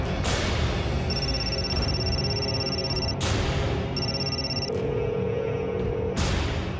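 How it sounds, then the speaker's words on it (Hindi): A phone rings in repeated bursts, a bright electronic tone sounding several times with short gaps over a constant low background. "फोन उठाओ प्लीज"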